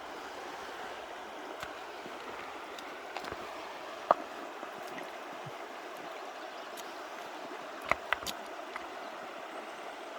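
Puddle water drains away after a log is pulled clear, a faint, steady rushing trickle with a few small clicks and splashes, alone with no voices.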